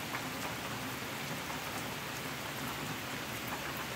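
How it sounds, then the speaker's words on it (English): Steady rain pours down with a dense, even hiss on surrounding surfaces, constant and moderately loud with no voices. "the rain is slacking up for a minute"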